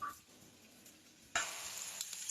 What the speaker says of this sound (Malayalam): സവാള ഒന്ന് വെന്ത് വന്നിട്ട് നമുക്ക് ബ്രൗണിഷ് ഒന്നും ആവണ്ട, ഒന്ന് വെന്താൽ മതി.